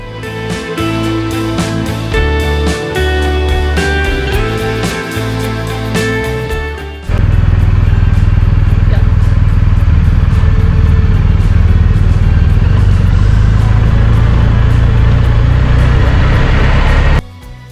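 Motorcycle descending tight mountain switchbacks toward Sonora, California, a loud steady engine drone with wind rush under music for the first seven seconds, then the engine and wind alone and strong until just before the end.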